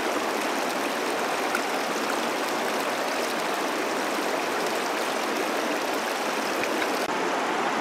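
Creek water rushes in a steady, broadband wash close by in a wooded research area, with no change in level across the whole stretch and no voices.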